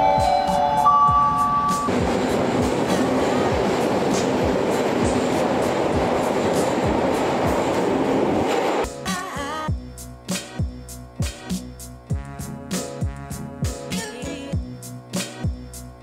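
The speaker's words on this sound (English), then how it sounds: "Riding the trains is an awesome way to travel in Japan." A train in Tokyo, Japan rolls along rails with a steady, dense rumble that shifts into a rhythmic clickety-clack of wheels over track joints.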